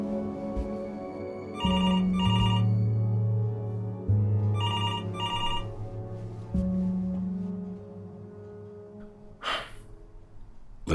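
Telephone ringing in the video game Before Your Eyes: two separate bursts of a double trilling electronic ring over a low sustained tone, followed later by a sharp breath-like rush.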